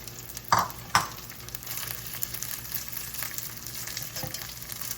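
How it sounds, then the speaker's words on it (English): Steady crackling sizzle of rice and onions frying in a pan, with a couple of louder scraping stirs near the start. "our rice and onions have been sizzling away in there for about 5 minutes"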